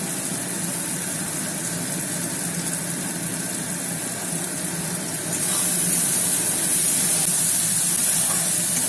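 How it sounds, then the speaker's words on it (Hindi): Potato masala for Bengali aloo dum frying on low heat in a pan, giving a steady close sizzling hiss that grows brighter and louder partway through, with no talking. "ये मसाला को थोड़ा धीमी आंच में आप फ्राई करना तो अच्छा रहेगा।"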